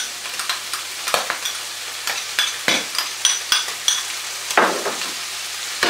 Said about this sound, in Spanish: Ahora le echamos el tomate.